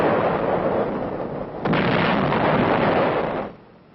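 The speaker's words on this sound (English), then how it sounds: "155 howitzer is zeroed in." A 155 mm howitzer firing during a Korean War era advance, a sharp heavy boom followed by a long rumbling roar that fades out, loud and fairly close on an old recording.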